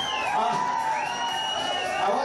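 A hotel function room crowd at a fancy dress night in 1989 cheers and whoops steadily for performers coming out, a continuous roar of many voices with a few higher calls rising above it.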